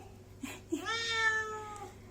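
A cat gives a single clear, drawn-out meow close by, preceded by brief faint sounds, in an otherwise quiet room.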